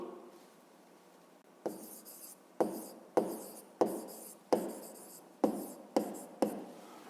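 Pen or pencil writing by hand on paper during a fifth-grade math exercise, heard as several short scratchy bursts of strokes separated by pauses, close and fairly quiet, with no talking.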